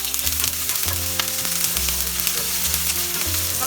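Onion, garlic, ginger and green chili frying in a pan for palak paneer, a steady close sizzle with occasional clinks and scrapes of stirring.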